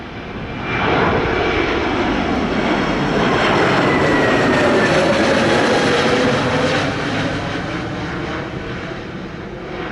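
An Air Canada Boeing 777 comes in to land on runway 07 at Sangster airport, Montego Bay, Jamaica, its jet engines rising to a loud, sustained roar before easing slightly as it passes.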